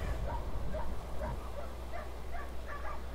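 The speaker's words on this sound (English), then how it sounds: "Oh, shut up! Stop your barking!" A dog in Skyrim barks and yips in short, repeated, muffled bursts over a steady low background hum, moderately close, with no talk over it.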